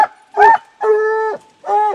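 A dog used in summer nuisance wildlife control gives three loud, close, drawn-out whining barks with a yelping, whimpering edge, separated by short pauses.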